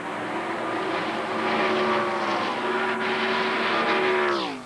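Stock cars roar around the track in the 1990 Busch Clash, with a loud, sustained blend of engine drones that drops sharply in pitch as the cars sweep past at the end.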